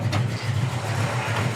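A 1957 Chevy Tri-5 engine idles close by in a steady, even low rumble with a smooth, regular pulse throughout, loud and alone.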